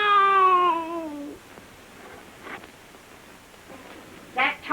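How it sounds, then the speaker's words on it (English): A long, drawn-out tomcat meow opens, loud and close, followed by quiet rustling, faint sounds, and a short meow-like cry near the end. "That tomcat of Perkins is fooling around here again"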